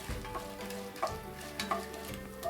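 Cashews frying and being stirred in a pan for cashew upma, with a steady sizzle under repeated scraping and stirring strokes of a spoon against the pan, close and continuous.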